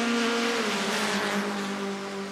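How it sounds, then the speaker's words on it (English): A supercharged nitromethane drag racer rolls toward the starting line at a Canadian drag strip, its engine a loud, steady rumble with a strong harmonic drone that stays close and continuous throughout. "On nitromethane, the supercharged entry rolls to the starting line."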